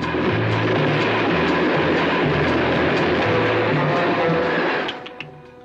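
A train rumbles steadily with a low, continuous roar and rhythmic undertone, close and loud, easing off near the end.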